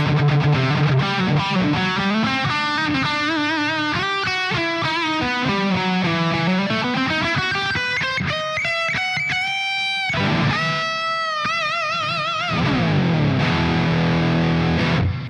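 A heavily distorted electric guitar through a smart guitar's amp model plays fast melodic runs and sustained bends, loud and close, with a brief pause before the playing resumes.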